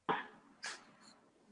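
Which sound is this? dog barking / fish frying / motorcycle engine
dog barking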